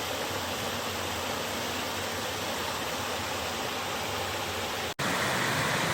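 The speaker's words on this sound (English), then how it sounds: "Got a little bit of a waterfall back here." A small waterfall on rural homestead property rushes steadily, a broad constant hiss of falling water, fairly close, with a brief cut near the end.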